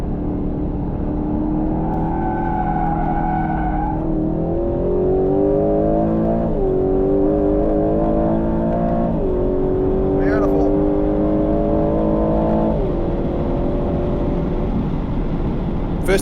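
A 2025 Aston Martin Vantage accelerates hard on a race track, its engine loud and close with rising pitch sweeps that climb, drop at gear changes and climb again in steady pulls.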